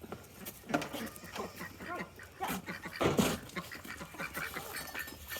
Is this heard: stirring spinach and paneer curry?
no